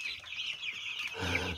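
Hungry backyard chickens cluck and squawk in a continuous, moderately close chorus, with a low rumble building near the end and no talk.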